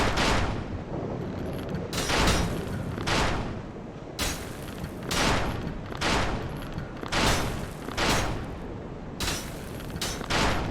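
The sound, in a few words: enemies shooting in the video game Dark Souls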